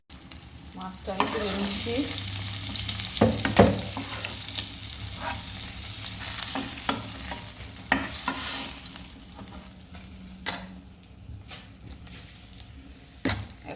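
Rohu fish frying in hot oil in a home kitchen, a continuous sizzle with stirring scrapes and clatters of a utensil as pieces are lifted out, while a person talks briefly.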